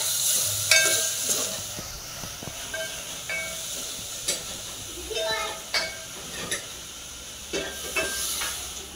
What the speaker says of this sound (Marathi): दालचा तडका मस्त होत आहे